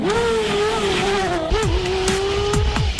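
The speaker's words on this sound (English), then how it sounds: "with the Carrera GT, you have a very powerful, very high-revving V10 engine" A Porsche Carrera GT's high-revving V10 holds a loud sustained wail that dips and climbs, with sharp gear-change blips and a brief tire-squeal edge toward the end.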